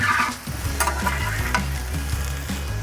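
Garlic sizzling loudly on a Solo Steelfire 30 griddle during a backyard hibachi cook, with steady frying crackle and a few scraping stirs of a spatula, close and without talk.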